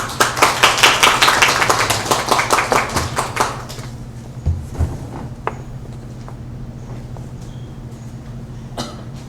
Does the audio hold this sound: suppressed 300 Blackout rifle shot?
no